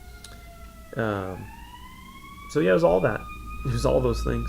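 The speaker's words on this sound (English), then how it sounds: "apologies for the sirens" Emergency vehicle sirens wail outside in rising, sustained tones that sweep upward and hold, while someone talks intermittently over them.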